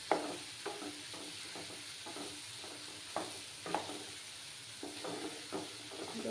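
Spice paste for a vegetarian potato and paneer curry is stirred and fried in a pan, a soft continuous sizzle with regular scraping strokes of the spoon, fairly faint and without talk.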